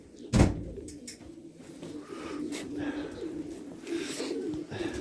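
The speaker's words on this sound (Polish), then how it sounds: "Warioty te gołębie są." Soft pigeon cooing repeats faintly over a steady background hum, with a sharp knock near the start.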